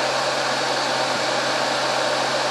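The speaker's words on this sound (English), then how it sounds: "we'll go the full max on the heat gun" A heat gun runs at its maximum setting, giving a loud, steady whooshing blower roar with an even hiss that holds without change from start to finish.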